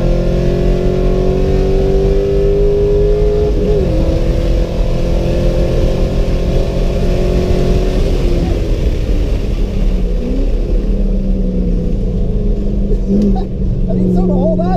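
Race car fitted with a Track Weapon camshaft lapping a circuit, its engine loud and steady throughout with rising and falling revs through gear changes, a continuous close onboard roar.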